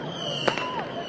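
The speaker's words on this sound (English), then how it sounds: "Just seeing some firecrackers going up." Firecrackers set off during a nighttime street protest in Atlanta, a few sharp pops standing out at a moderate distance over a steady background hum and faint crowd noise.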